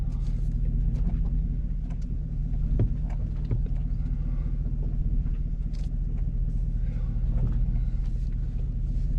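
A 2021 Chevrolet Silverado Custom Trail Boss crawls at about one mile an hour down a rocky off-road trail on Basalt Mountain in Colorado. A steady, close low engine rumble runs throughout, with scattered faint knocks and creaks over it.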